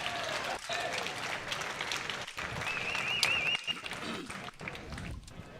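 Crowd applause at a senior pro singles pickleball match on an APP Tour court in Delray Beach, a broad wash of clapping and cheering that stays steady and fairly loud throughout, with a brief whistle partway through.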